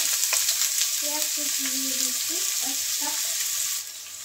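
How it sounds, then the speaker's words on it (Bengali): Chopped onions fry in about four tablespoons of oil with a close, continuous crackling sizzle. A faint murmuring voice comes in briefly partway through, and the sizzle eases slightly at the end. "পেঁয়াজটা একটু লাল করে ভেজে নেব।"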